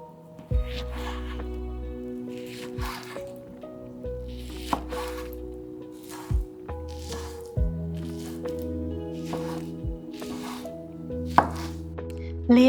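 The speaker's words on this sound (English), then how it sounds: "Slice fresh figs." Knife slicing fresh figs on a board for a chia pudding, a series of soft squishy cuts and taps with intermittent thuds, close and clear without talk.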